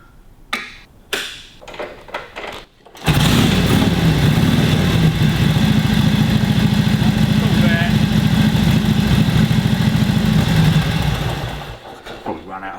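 A small motorcycle with a freshly rebuilt carburettor sputters and catches after a few quiet attempts, then idles loudly and steadily up close for several seconds before the revs drop away.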